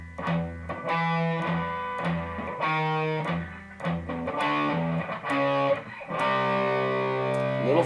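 Distorted electric guitar chugs through a riff at a quicker practice tempo, palm-muted low-string pulses alternating with ringing power chords, loud and close with no talking.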